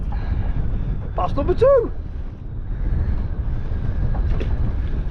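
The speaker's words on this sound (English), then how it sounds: "the wind hasn't stopped" Strong wind roars steadily across the microphone over the Menai Strait, a broadband rumble that persists throughout while someone speaks briefly.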